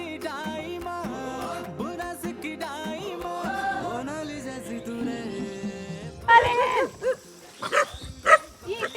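Young puppies at a village home in Uttarakhand yip and bark in short high bursts, close by, with a louder flurry of barks near the end.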